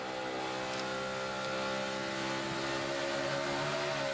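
A stock car races in the 2012 Sprint All-Star Challenge, its engine droning steadily with a rising tone as the tires briefly spin, all under a continuous, fairly distant wash of race-track noise.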